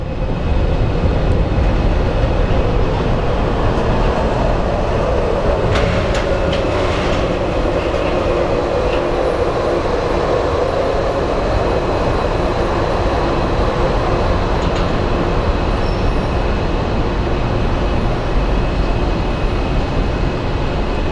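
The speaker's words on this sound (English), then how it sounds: "we do have a plane that is going to be landing, and it is a United Airlines Sustainable Aviation Fuel livery" A United Airlines Boeing 737 in sustainable aviation fuel livery lands at Phoenix Sky Harbor International Airport. A loud, steady, rumbling roar holds unbroken for the whole stretch, with no talking.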